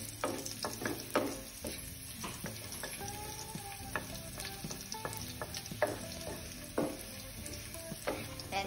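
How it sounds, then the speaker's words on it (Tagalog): Vegetables with garlic and onion cook in a pan, a quiet sizzle broken by repeated clicks and scrapes of stirring, close and soft, with no speech. "Then, I'm just roasting the vegetables."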